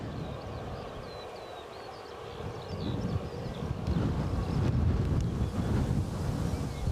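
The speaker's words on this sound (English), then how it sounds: "As you can hear, that wind is back up again. It's getting quite erratic now." Strong wind at an airport buffets the microphone as a loud, continuous roar that builds and grows gustier partway through, with no talk.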